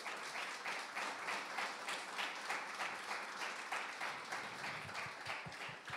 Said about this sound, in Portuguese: Raquel, vamos dar uma salva de palmas para Raquel?